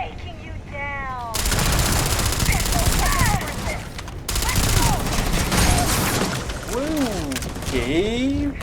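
Gunfire in a Starfield shootout crackles in loud, rapid bursts of shots, with voices chattering over the firefight.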